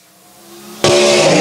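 Sprint cars from an Empire Super Sprints heat race roar past at a dirt track, the loud engine noise bursting in suddenly after a quieter hum and holding steady and close.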